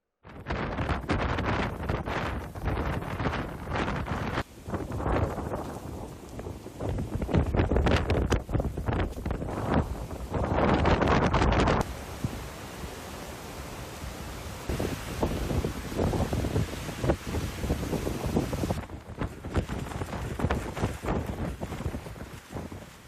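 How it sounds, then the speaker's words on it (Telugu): Strong gusty winds from Typhoon Krathon sweep through southern Taiwan during heavy rain, roaring and buffeting the microphone in loud, continuous, surging waves. "కుంభవృష్టికి తోడు బలమైన ఈదురుగాలులు వీస్తుండటంతో వీధులన్నీ నిర్మానుష్యంగా మారాయి"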